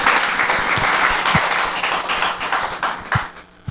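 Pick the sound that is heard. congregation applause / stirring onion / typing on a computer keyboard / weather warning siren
congregation applause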